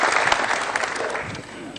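Audience applause fills a business dialogue forum hall, a steady dense clapping that runs loud throughout the short stretch and tapers slightly toward the end.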